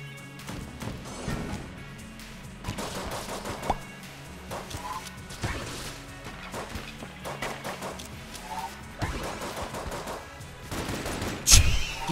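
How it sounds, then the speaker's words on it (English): Rapid pistol gunfire and impact crashes from the Xbox One video game Enter the Gungeon, with the starting pistol firing repeatedly in uneven bursts alongside game effects and background music, moderately loud throughout. "Oh, look at this starting pistol go!"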